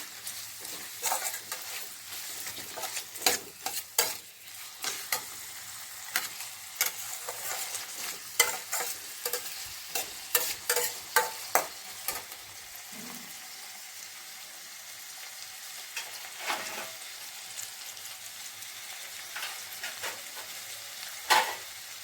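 Sliced tomato fries in a pan for a sambar, a soft sizzle under frequent clattering scrapes and taps of a spoon stirring against the pan, close and uneven in rhythm, with no talking.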